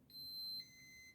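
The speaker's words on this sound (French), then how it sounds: "ici, on a une alarme de porte" An Infinity enteral feeding pump sounds its door alarm, a quiet, steady electronic tone that steps to a different pitch partway through, with no talking.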